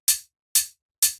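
Three identical open hi-hat hits from a minimal tech house beat, evenly spaced about half a second apart, each a bright punchy crash with a full body and a quick fading tail, loud and alone.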